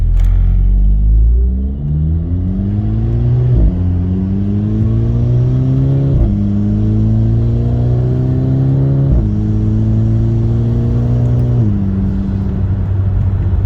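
A Volkswagen GTI Mk5 engine revs up repeatedly through the gears at night, a loud, close, throaty rising intake whine with brief dips between shifts, no voices.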